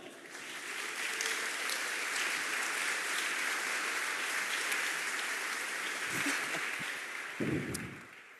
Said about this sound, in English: we'll give a round of applause for Zilling and Mikhail